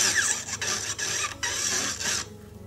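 A rotary burr grinds into a metal ring, giving a steady high rasping whine with brief dips where the tool lifts off, close and continuous, then cutting out near the end.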